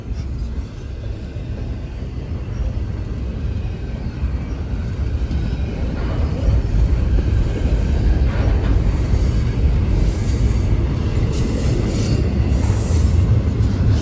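A long Norfolk Southern freight train led by BNSF locomotive 242 rolls past on the Charlotte District, a loud, steady rumble of wheels and cars that swells slightly partway through and continues without any talk.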